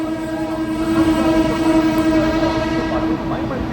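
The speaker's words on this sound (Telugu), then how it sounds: "మొత్తానికి పావు తక్కువ పన్నెండింటికి బయలుదేరిందండి సికింద్రాబాద్ జంక్షన్ నుంచి మన ట్రైన్" A DEMU train departing Secunderabad Junction hums and rumbles steadily with a sustained horn-like tone, a rolling departure sound heard from inside or close by.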